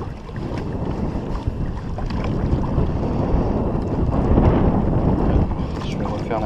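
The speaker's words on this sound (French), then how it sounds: "Ah c'est pénible ce vent" Strong wind gusting over a lake, buffeting the microphone while fishing from a drifting boat, a steady loud rumble that swells toward the end, with a few faint knocks and no clear talk.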